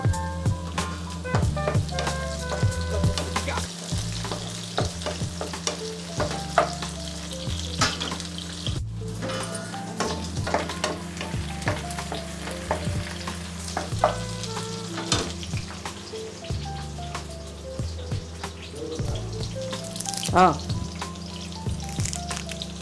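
Green chillies and onions fry in oil for fish pulusu, a steady close sizzle with occasional stirring scrapes over a low, constant tonal hum throughout.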